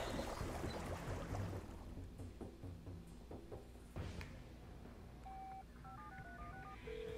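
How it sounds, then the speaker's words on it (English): Telephone keypad tones during dialing in the action video game Stranglehold, a quick series of short beeps at different pitches over low background game ambience. "But I gotta take a phone call real quick."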